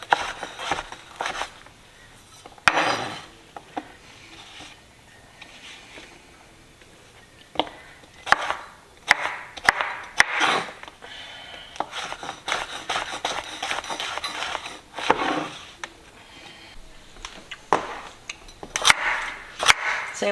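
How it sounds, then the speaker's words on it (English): A knife chops vegetables into little pieces on a cutting board, giving irregular bursts of sharp cuts and scraping taps with short pauses between them. "then you cut the vegetables into little pieces"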